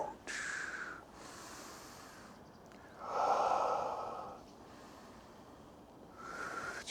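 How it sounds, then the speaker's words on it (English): Slow, deliberate breaths in and out during a gentle beginner qigong mobility routine, two soft drawn-out breath sounds close by and fairly quiet, with no talking over them. "Let's breathe in and out."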